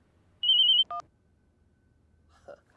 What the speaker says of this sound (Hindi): आज ये फोन भी अभी आना था।